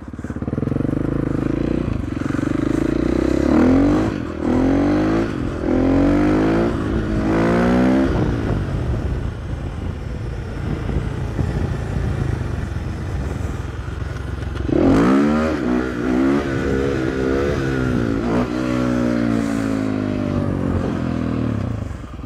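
A motorcycle ridden during stunt practice, its engine revving up and down in repeated rising and falling bursts, close and loud throughout with no speech.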